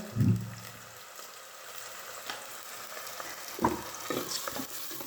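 Onions fry in hot cooking oil for a radish and spinach sabzi, a soft steady sizzle with a few thuds and scrapes of stirring near the start and end, close by and without speech.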